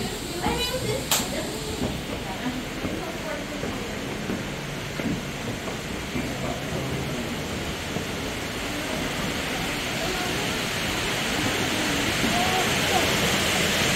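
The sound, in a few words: waterfalls at Watkins Glen State Park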